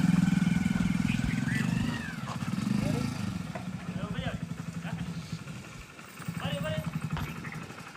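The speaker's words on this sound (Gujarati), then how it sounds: "મારા દાદાજી આવે છે એની નવી બાઇક હીરો સ્પ્લેન્ડર લઈને, નવું મોડલ" A new Hero Splendor motorcycle arriving, its engine running with a steady mid-pitched putter that swells and eases close by, under clear talking.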